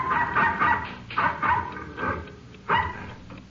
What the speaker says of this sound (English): the occupants were awakened by the barking of a dog